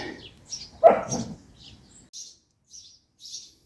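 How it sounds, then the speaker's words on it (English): Small birds nesting in a barn chirp and tweet in short scattered bursts, faint and somewhat distant, with a brief low thump of handling noise near the start. "Sorry about all the birds in the background, by the way. They must be nesting in my barn."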